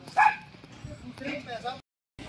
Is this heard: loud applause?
no